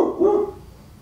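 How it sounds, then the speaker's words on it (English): An excited dog gives a single short bark indoors, fairly close and loud, fading quickly. "excuse the dog, she's just getting a little excited."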